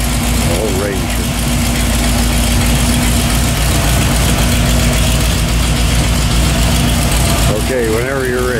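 A 284 cubic inch Ford flathead engine runs on a dyno with a steady, loud, dense roar throughout, with voices talking over it.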